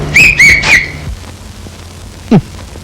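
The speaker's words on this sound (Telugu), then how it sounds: "ఇప్పుడు మీరు ఇచ్చిన లెక్చర్ కి నేను ఈల కొడుతున్నాను" A person whistles three short, sharp rising notes in quick succession. After a pause comes a single loud descending wolf-whistle-like slide, close by and unaccompanied.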